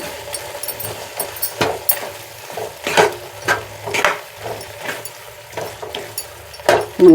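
A spoon scrapes and stirs mushroom masala curry with ground cashew and poppy seed paste in a pan, repeated rhythmic strokes over a faint sizzle.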